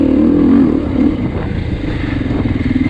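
A 2024 Beta 390 RR dirt bike on a trail, its engine droning close and loud with a low throbbing note that eases slightly after the first second, no voices.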